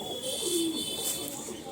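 Pigeons at a home loft give a soft, low coo, faint and distant against a steady background hiss, with no talk.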